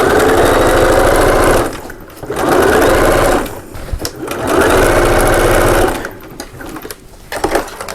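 Loud, close sewing machine runs stay-stitching a pocket seam on a fabric double cup holder, with several sustained bursts separated by short pauses and faint handling noises.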